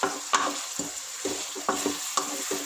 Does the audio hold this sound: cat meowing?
no